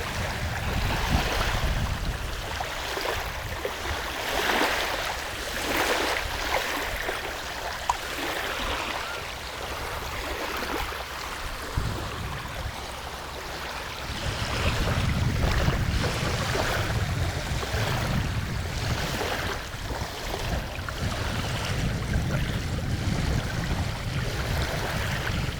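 Ocean waves wash steadily onto a shoreline, a continuous broadband roar of surf with wind, swelling louder in the second half and heard alone without voices.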